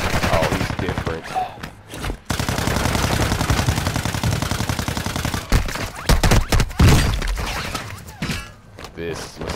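Rapid bursts of automatic gunfire in a tactical shooter video game match on Ashika Island, dense rattling volleys broken by brief gaps, with a player's voice talking over the shooting.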